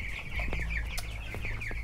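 Chickens on a poultry farm raised for meat cluck in short repeated calls over a low steady hum, a few birds close by.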